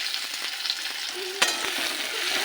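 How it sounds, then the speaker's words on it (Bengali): Chopped green chili and tomato fry in a pan, making a close, continuous sizzle with a sharp scrape or clink of a spoon midway. "এগুলো একটু ভেজে নেব"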